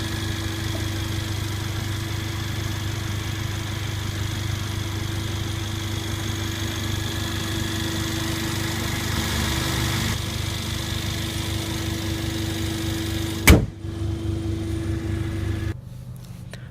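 A 2014 Mercedes CLA45 AMG turbocharged four-cylinder engine idles steadily for a long stretch, a close, even hum with a sharp mechanical clunk near the end before the sound cuts down, no talk over it.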